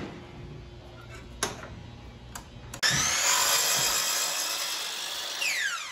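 A power saw set to 8 degrees cuts small wooden triangles. A few sharp knocks come first, then the blade spins up into a loud, sustained whine that slowly winds down near the end.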